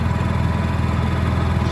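A Honda EU7000is inverter generator fitted with a US Carburetion Motor Snorkel tri-fuel kit runs on natural gas, a steady close mechanical hum with a fast even pulsing beat and no talk.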